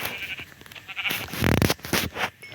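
A sheep in the Minecraft video game gives a short, nasal bleat over a steady background hum, fairly quiet and alone without speech.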